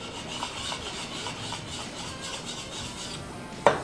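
A woodturning scraper has the burr rubbed off its edge with a steady, quiet rasping scrape close by, ending in one sharper knock.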